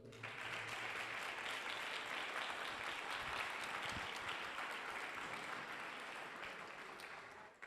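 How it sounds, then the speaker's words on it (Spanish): Steady audience applause at a round-table event on C. S. Lewis in Buenos Aires, greeting a speaker being introduced; dense, even clapping, faint and somewhat distant, fading slightly at the close. "Le damos un fuerte aplauso."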